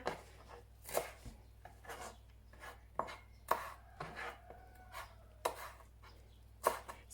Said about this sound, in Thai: เดี๋ยวเรามาหั่นหั่นผักเตรียมผักกันนะคะ